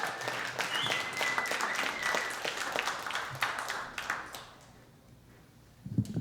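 A comedy club audience in New York applauds comedian Adam Kessler at Gotham Comedy Club, with sustained clapping and a few cheers that taper off toward the end before a brief noise at the close.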